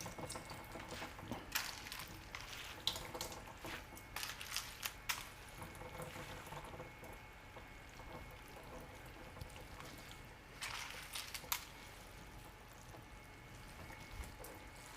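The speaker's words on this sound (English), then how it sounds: "I'm just pushing on it and excess water is coming out" Rinsed somen noodles are pressed to squeeze out excess water, giving close, quiet bursts of wet squishing and dripping in irregular clusters with calmer pauses between them.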